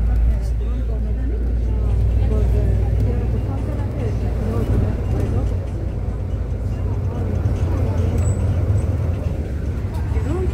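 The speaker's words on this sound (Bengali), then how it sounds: "বাসটা ঘুরে যাচ্ছে।" A shuttle bus turns and drives along a wet road near the Haram in Makkah on a rainy day. Its low engine rumble and road noise run steadily beneath continuous talking.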